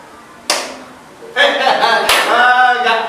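Children in a classroom counting game clap their hands on even numbers, with a few sharp claps standing out among overlapping young voices.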